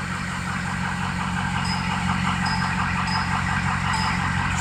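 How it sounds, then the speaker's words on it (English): A truck engine cranking on and on without catching, a loud, continuous rhythmic churn of the starter and compression heard up close, with no pause across the stretch. "Extremely long crank."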